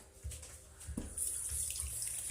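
A kitchen tap runs during a quick hand rinse, a soft splashing stream that starts, swells and keeps flowing near the mic for a couple of seconds.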